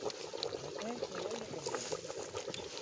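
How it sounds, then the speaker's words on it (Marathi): Water boils in a pot over an outdoor forest cooking fire, with a soft, continuous bubbling and gurgling at low volume. A voice talks faintly underneath. "पाणी आले पाण्याला उकळी"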